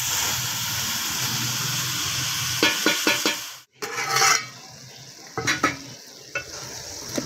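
Potato, peas and moongre sabzi stirred in a pan, a continuous sizzle broken by several spoon scrapes and clinks, close and fairly loud, with no talk.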